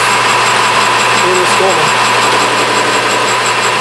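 A lathe runs in a workshop while turning waste Delrin stock, producing a steady, loud mechanical hum with a constant whine that holds evenly throughout.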